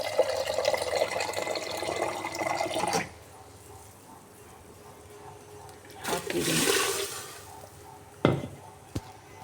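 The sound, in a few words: water being poured into cooking pot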